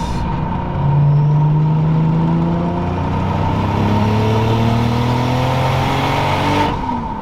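A turbocharged 600hp Toyota Supra engine with an open wastegate revs hard and close, its pitch climbing in long sweeps with a whooshing, hissing edge, then the throttle drops off near the end.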